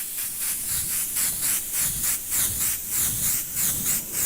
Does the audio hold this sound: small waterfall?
no